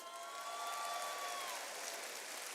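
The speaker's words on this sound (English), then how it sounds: "Give yourselves a round of applause." An audience gives itself a round of applause, a dense, even patter of many hands blending into a hiss-like roar, with a faint thin tone briefly ringing over the first half.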